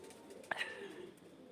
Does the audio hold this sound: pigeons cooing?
yes